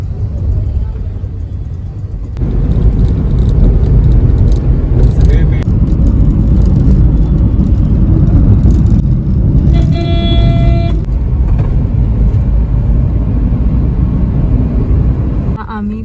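Road traffic near Kalwa bridge on the way to Panvel rumbles around a cab, with a loud steady engine drone, passing vehicles and a brief horn toot, as people talk inside.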